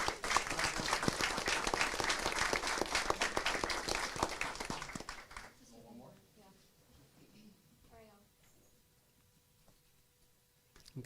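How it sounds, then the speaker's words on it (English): An audience at a school district board meeting applauds students, a dense burst of many hands clapping that fades out after about five seconds into quieter room murmur. "Let's give these students a round of applause."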